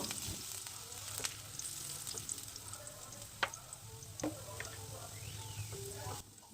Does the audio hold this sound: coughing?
no